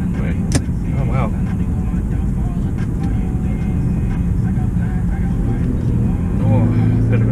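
A 2008 Infiniti G37 automatic hums steadily from inside the cabin on a test drive, rising slightly toward the end as it accelerates, with a voice speaking over it.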